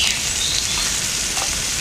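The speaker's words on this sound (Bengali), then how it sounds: "মশলাটা ভালো করে ভেজে নেব" Onion, ginger, garlic and chilli spice paste frying in a pan, a steady loud hiss and sizzle with faint stirring clicks, no voices.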